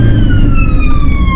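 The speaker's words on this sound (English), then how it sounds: "when the gap opens up, we'll put the sirens back on" Emergency vehicle siren wailing loud and close for the whole moment, its steady sweeping tones sliding gradually downward over heavy road and engine rumble, with no talk.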